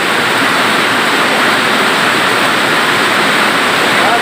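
Heavy rain pours down in a steady, dense roar, loud and unbroken throughout with no voices.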